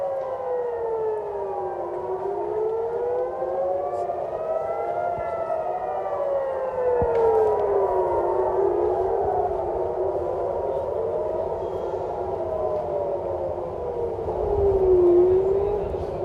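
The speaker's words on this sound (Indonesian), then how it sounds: "sirene meraung saat rudal melintas di Israel dan tepi barat" Civil defense air raid sirens wailing in Israel during a missile attack, several overlapping tones rising and falling continuously, loud and steady with distant rumbling underneath.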